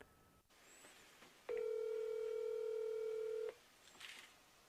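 A steady telephone dial tone rings out alone for about two seconds while a call is placed on a smartphone through an indoor signal booster, with quiet room noise before and after.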